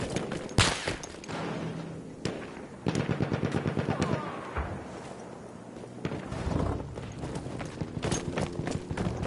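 An enemy machine gun fires in the video game Battlefield 1 amid a chaotic battle. Scattered single shots and impacts give way to a fast, rhythmic rattling burst, followed by more intermittent bangs and clatter.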